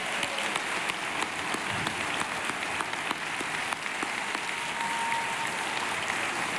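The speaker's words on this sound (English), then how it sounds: "give them a warm applause, please, for all the men" An audience applauds steadily and densely at an international women's day conference with women from 28 countries, the clapping sustained and even throughout without any voices on top.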